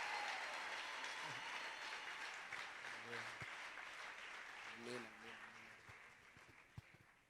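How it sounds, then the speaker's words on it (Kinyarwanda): A church revival congregation claps in sustained, moderately loud applause that slowly fades, with a few voices speaking over it. "Umukubitira amashyi y'urufaya."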